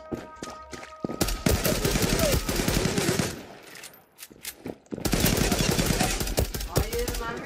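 Rapid bursts of pistol fire in a first-person shooter game, sharp repeated shots in two dense volleys with a short lull between, alongside footsteps and game noise.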